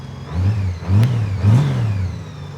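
Loud motorcycle engine rumbling close by, rising and falling in a few throttle blips over a steady idle.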